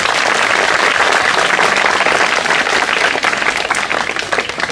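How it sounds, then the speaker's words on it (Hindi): Loud, sustained applause from a village crowd at an outdoor tree-planting drive gathering in Karsindhu, steady dense clapping for the full length, easing slightly toward the end. "जोरदार तालियां"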